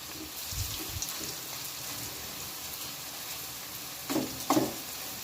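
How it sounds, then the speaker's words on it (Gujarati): Dahi vadas frying in oil over a low flame: a quiet, steady bubbling hiss runs throughout, broken near the end by a couple of brief clinks from turning them in the pan. "આપણે પલટાવતા જઈને એને સરસ ફ્રાય કરી લઈશું"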